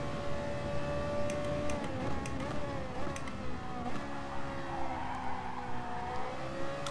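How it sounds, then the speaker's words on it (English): A race car from GT Sport, in an FIA Manufacturer Series race, corners with a steady high engine whine that shifts pitch through the bend, with faint tyre noise underneath. "Car's going through the corner."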